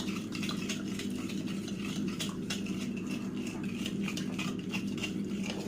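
Salt being stirred through a bowl of chicken-strip mixture for crispy fried tenders, giving a steady, close scraping and clinking of a utensil against the bowl with no speech.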